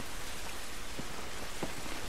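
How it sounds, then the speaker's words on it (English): Steady rain pours outdoors in the post-apocalyptic video game The Last of Us, a dense, even hiss of drops with a few slightly louder splashes, close and continuous with no talking. "This rain ain't gonna do us any good."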